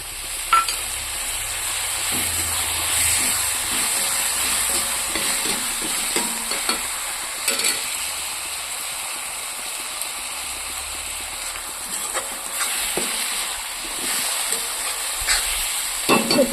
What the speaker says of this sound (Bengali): আর এই যে মশলা রেখেছিলাম এইগুলো দিয়ে দিচ্ছি আর এই আদা রসুনের পেস্ট এইটাও দিয়ে দিচ্ছি